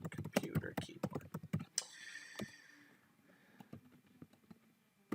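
Rapid clicking of computer keyboard keys, close and fairly quiet, with a voice talking briefly at the start before the typing continues alone.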